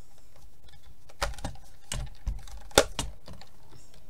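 A small label-making machine is operated by hand, giving a few sharp clicks and clacks in an irregular rhythm, close and fairly loud against a quiet room.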